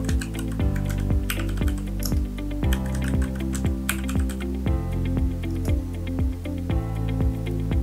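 Rapid, steady keystrokes on a computer keyboard as the Y key is typed over and over, crisp clicks close up with no talking.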